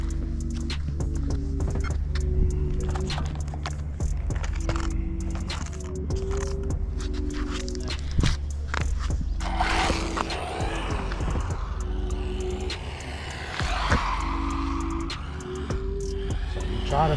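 A brushless Arrma Typhon Grom RC car with new shocks and tires drives and tries to flip, its motor whining and revving in short bursts with rattling clatter and scuffs, close by.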